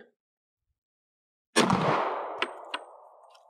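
A single sharp .40 S&W pistol shot fired into a weighted log target, a loud close blast with a long ringing decay, followed by two faint metallic clinks.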